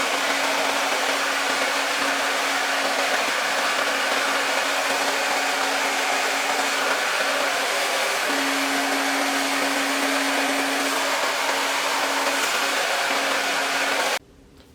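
Hair dryer blowing on freshly dyed wet hair, a loud steady whirring drone with a constant hum that runs nearly fifteen seconds before cutting off abruptly at the end, no talking.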